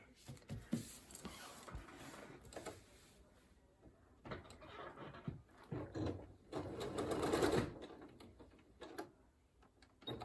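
A sewing machine stitches a triangle onto a quilt block in several short bursts, its motor whirring and clattering between pauses and handling clicks.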